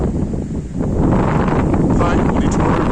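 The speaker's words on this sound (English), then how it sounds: "Anyway, it's very windy." Strong wind gusts across a university campus in Bolivar, Missouri, roaring and buffeting the microphone continuously and loudly throughout, with no other sound standing out.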